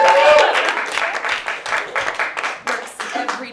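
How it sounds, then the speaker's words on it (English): Audience applause at a cabaret stage show: a dense, steady patter of many hands clapping from start to finish, with a few voices calling out above it. "Applause with no performance necessary"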